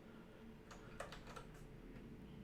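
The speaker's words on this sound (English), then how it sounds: "Typing it in." Soft typing on a computer keyboard, a short burst of a few key clicks in the middle, faint and close against a steady background hum.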